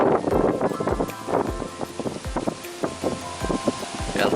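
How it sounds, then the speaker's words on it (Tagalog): Very strong wind blows over an open hillside in Barangay Don Juan, Cuenca, Batangas, a steady loud rushing roar with buffeting gusts hitting the microphone and rustling foliage, with no talk. "Yan, sobrang lakas po ng hangin."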